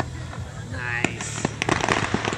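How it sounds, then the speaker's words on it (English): A fireworks test shell fired at a lakeside display at Birch Lake, heard as a sharp launch thump followed by scattered crackling bursts, with people talking and reacting over it. "He had to fire a test shell."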